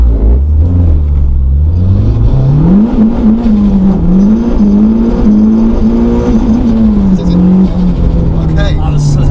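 A turbocharged Renault Clio 172 Cup, about 980 kg and 311 bhp, revs hard and accelerates from 0 to 60, its engine note climbing and holding loud and steady throughout, with people talking over it.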